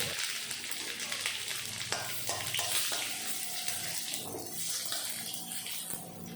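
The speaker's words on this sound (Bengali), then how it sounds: "তেল ভালো মতন গরম হয়ে গেল, দিয়ে দেব জিরা, তেজপাতা আর শুকনো লঙ্কা" Cumin, bay leaf and dried chilli hit hot oil in a pan, setting off a loud, dense, hissing sizzle that carries on steadily and eases slightly toward the end.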